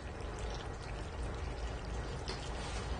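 Water pours steadily into a saucepan holding lettuce, beetroot and rice, a close, even splashing stream lasting a few seconds with no talk.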